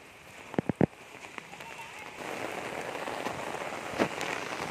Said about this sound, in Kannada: ಎಷ್ಟು ಜೋರಾಗಿ ಮಳೆ ಬರ್ತಿದೆ